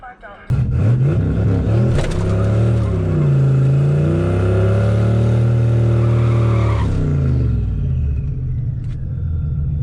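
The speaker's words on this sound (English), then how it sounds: "good burnout" A turbocharged Fox-body Mustang does a burnout at a test-and-tune drag strip, its engine roaring loud and close at held high revs with a long tire squeal, then dropping away as the car pulls off.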